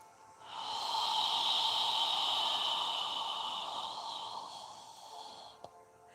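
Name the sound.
deep yoga breathing, inhaling and exhaling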